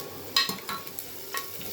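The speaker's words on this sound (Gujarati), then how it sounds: "લીલા મરચાં, સૂકી ડુંગળી, લીલો લીમડો અને એ બધાનો વઘાર કર્યો છે" Green chilies, onion, curry leaves, garlic and asafoetida tempering in hot oil in a home kitchen, with a soft continuous sizzle and a few stirring scrapes, quiet and close, no talking.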